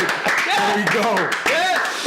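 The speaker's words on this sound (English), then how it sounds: "Let's clap it up for redemption." People clapping at a live gaming event, short bursts of hand claps mixed under loud overlapping voices and cheering.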